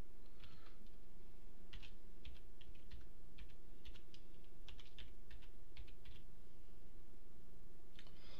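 Keystrokes on a computer keyboard tap in scattered short bursts, close and fairly soft, over a constant low background hum, with no talking.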